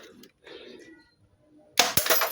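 A plastic bottle bursts apart when struck by a shot from a Desert Eagle airsoft pistol, a sudden loud crack and crunch that follows a stretch of quiet talk and lingers as a short rattle.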